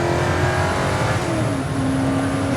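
Ford GT40 race car engine at Willow Springs Raceway, a loud steady roar with a sustained drone holding high pitch, shifting slightly midway as the car is pushed near its limit.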